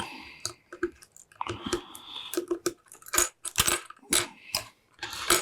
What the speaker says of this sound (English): Snip, snip time.